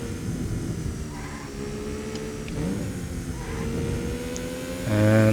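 Porsche 959 engine in Need for Speed: Porsche 2000 on PlayStation, a steady droning rev that climbs through third gear, loud and continuous, with a heavier burst near the end.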